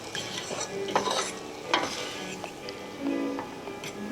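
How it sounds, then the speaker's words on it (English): Meat browning in a pan for pork medallions, a gentle sizzle under repeated scraping and clinking of a utensil stirring against the pan, close and moderately quiet. "All we're doing is browning this meat"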